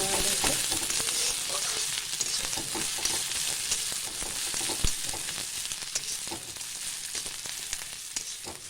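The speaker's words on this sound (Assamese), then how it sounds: "ভালকৈ ভাজা যাব লাগিব আদা নহৰু মৰালৈকে।" Ginger-garlic paste fries in a hot pan while being stirred, a steady dense sizzle running throughout with occasional scraping clinks from a spoon, close and even in loudness, with no voices.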